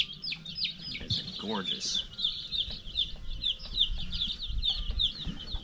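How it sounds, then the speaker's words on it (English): Brahma Comet chicks peep and chirp steadily in high, rapid bursts, with a brief clucking call, close by under quiet handling noise while a person speaks briefly. "I love these Brahma Comet chicks."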